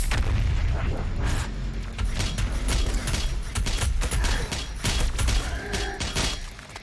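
The BFG 10,000 weapon in a demon-fighting shooter game fires with continuous heavy booming and crackling blasts, loud and dense throughout.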